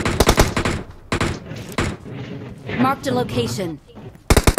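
Bursts of rapid gunfire in the mobile battle-royale game PUBG Mobile, loud repeated volleys at the start, in the middle and at the end, with players talking between the shots.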